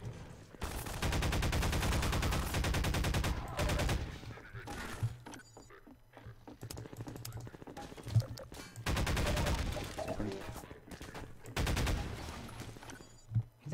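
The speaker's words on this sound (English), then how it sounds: "Is shooting at me." Enemy gunfire in Half-Life 2 erupts in dense automatic bursts, long rattling volleys broken by short pauses, with scattered single shots and impacts between them.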